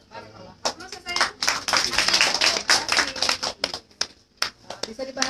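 Scattered clapping from a seated audience at an Islamic marriage guidance talk, a burst of hand claps building and thinning over several seconds, fairly close and lively, with a voice mixed in.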